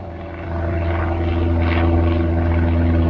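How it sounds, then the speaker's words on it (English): An airplane drones steadily overhead outdoors, a low constant engine hum that grows slightly louder as it passes, with no voices. "see if I can catch this plane."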